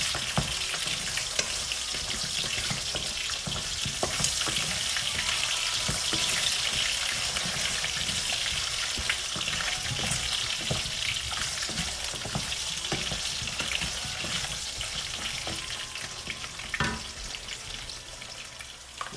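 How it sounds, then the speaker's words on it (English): Potatoes fry in a hot pan at high to medium heat, giving a dense, steady sizzle with crackling that runs nonstop and fairly loud, with no voices. "Add potatoes and fry it until it's kind of golden brown."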